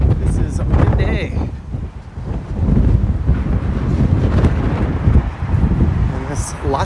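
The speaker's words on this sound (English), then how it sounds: "This is windy." Gusty wind buffets the microphone outdoors on a Toronto street with a deep, rumbling roar that rises and falls steadily, with a voice faintly audible beneath it.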